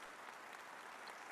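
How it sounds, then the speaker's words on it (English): Soft, scattered golf-clap applause from a small group in a video game, brief and uniform without cheering. "Golf clap. Golf clap."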